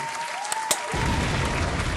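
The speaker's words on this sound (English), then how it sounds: "You definitely deserve a round of applause for that one." A short audience applause sound effect in a beginner music lesson, bursting in after a couple of sharp clicks and running as a dense wash of clapping to the end.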